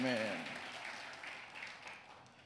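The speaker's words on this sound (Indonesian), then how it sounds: "Tepuk tangan saudara." Applause from a church congregation at an Easter service, a dense wash of clapping that starts loud and gradually thins out, with a brief voice at the very start.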